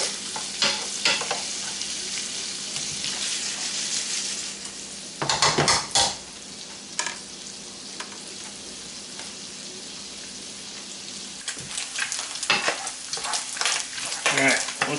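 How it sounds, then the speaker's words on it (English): Bacon sizzles in a pan with a constant crackling hiss, interrupted by bursts of utensil scraping and clinks against the pan, louder toward the middle and end, heard up close with no talking. "Get that bacon good and rendered out,"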